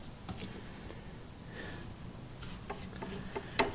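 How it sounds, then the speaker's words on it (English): Glue thickened with wood flour is spread onto wooden kayak stems, giving quiet scraping and rubbing strokes in short bursts, close and soft with no voices. "you're going to fairly liberally, but don't get crazy, about spreading it on there"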